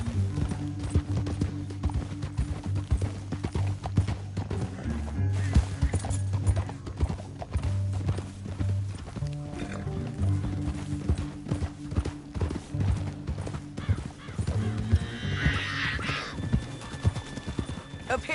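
Rhythmic clip-clop of horse hooves at a steady gait in the video game Red Dead Redemption, with a low droning background and a brief whinny-like burst near the end.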